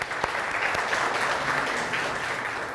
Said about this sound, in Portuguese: Uma salva de palmas para a Sophie